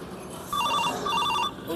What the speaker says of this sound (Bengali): এ আবার ফোন করছে কেন?